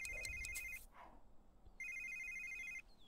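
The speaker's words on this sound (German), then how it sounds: "Telefon." A phone in The Sims 3 rings with a bright electronic trill in two bursts separated by a short pause, clear and fairly close over faint background.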